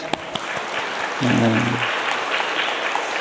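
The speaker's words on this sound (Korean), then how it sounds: "우리 박수 한번 드립시다" Church congregation applauding during a Sunday sermon, steady massed clapping throughout with a brief low tonal hum partway through.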